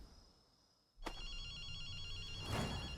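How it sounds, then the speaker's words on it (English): A telephone ringing in a video game, a loud electronic bell-like trill that starts abruptly after a quiet second and keeps repeating steadily, swelling slightly toward the end. "We're getting a phone call."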